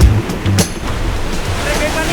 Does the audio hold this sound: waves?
yes